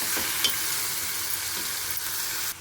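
Tomatoes with salt hiss and sizzle in a pan. Faint stirring scrapes come through now and then, and the sound drops off abruptly at the end. No voices.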